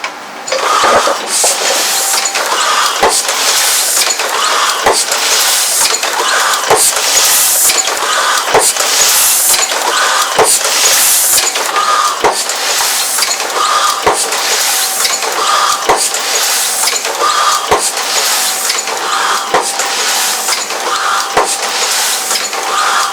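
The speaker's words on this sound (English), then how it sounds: "This is a Heidelberg Die Cutter. It looks a little bit old. It's 1964 and it still works great." A 1964 Heidelberg die cutter runs steadily, its mechanism producing a loud, close, rhythmic clatter with regular repeating thumps and clicks roughly every second.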